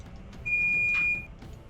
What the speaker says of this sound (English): Your smoke alarm's going off.